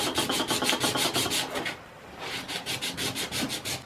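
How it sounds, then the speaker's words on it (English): A flattened metal blade back is polished by hand to remove scratches, giving a steady, rhythmic back-and-forth rubbing that pauses briefly midway, close and moderately loud. "I'm going to polish this off just to kind of try to see if we can get some of the scratches out of there."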